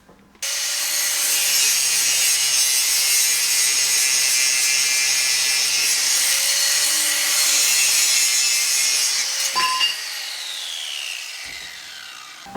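An angle grinder runs off a Pecron E600 LFP portable power station, a loud, steady whine that holds for most of the stretch, shifting slightly in pitch under load before it winds down near the end.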